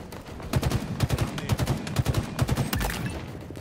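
Rapid bursts of gunfire in Halo Infinite, several tight volleys of repeated shots in a steady rhythm, loud and close, with a heavier blast near the end.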